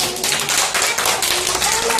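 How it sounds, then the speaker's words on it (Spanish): A group claps together for the maker of a big sponge cake, giving a short burst of dense, close applause that lasts about two seconds. "Le damos un aplauso."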